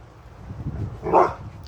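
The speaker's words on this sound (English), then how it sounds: "The dogs are distracting me a bit, I'm sorry. They're playing though." Dogs playing indoors give a short bark and low grumbling noises, a brief, fairly close burst near the end of a quiet stretch.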